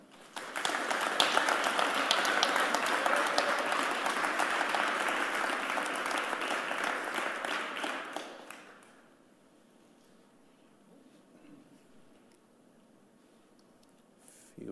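Audience applause welcoming three artists onstage at a gallery artist talk, a dense, steady clapping that fills the room for about eight seconds and then fades away, leaving quiet room tone.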